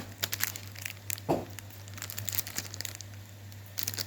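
Plastic wrapper of a Machali Pocky snack package crinkling as it is opened, a few close rustling bursts with one sharper crackle in the middle, alone with no speech.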